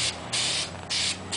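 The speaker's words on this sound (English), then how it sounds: "spray more than like a burst like I'm doing. Just a slight burst is really all you need to cover." Short bursts of spray paint from an aerosol can onto a model X-wing, three loud hissing puffs separated by brief pauses.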